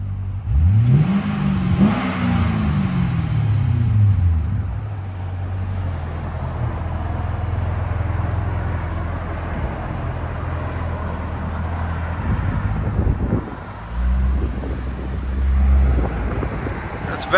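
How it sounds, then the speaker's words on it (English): A 2009 Chevy Corvette Z51 with a 6.2L V8 and Valvetronic Designs exhaust, valves closed, revs up near the microphone, with a deep engine rise and fall early on, then a steady idle, and another blip near the end amid some wind noise. "got Chevy Corvette Z51. Valves closed. Valvetronic designs."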